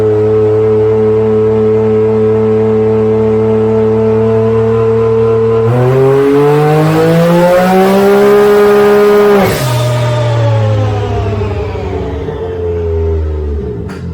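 A Can-Am X3 side-by-side engine fitted with a new turbo runs on a dyno, droning steadily, then revving hard upward before dropping back to a lower roar, loud and close with no talk.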